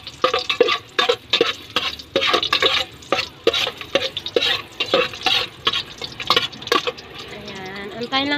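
Ginger hits hot oil and is stirred for chicken tinola, producing bursts of sizzling and clattering stirring strokes up close, with a voice talking over parts of it.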